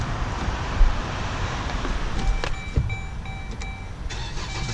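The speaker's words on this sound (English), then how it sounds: "Start the car for this." A 2014 Dodge Journey being started, with a brief crank and the engine catching, then idling under loud wind noise with a few clicks and beeps.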